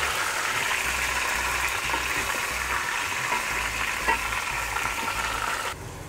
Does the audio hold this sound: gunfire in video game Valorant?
no